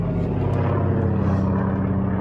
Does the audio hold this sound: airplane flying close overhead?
yes